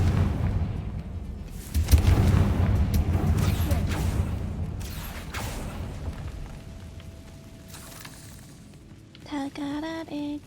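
Confringo spell blast in the Hogwarts Legacy video game: a heavy booming explosion with rumbling debris and crackles that fade over several seconds, then brief tonal game chimes at the end.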